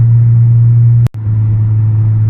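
2020 Toyota Supra engine while driving, a loud, steady low hum heard from inside the cabin, broken once by a sharp click and a brief dropout before the drone resumes.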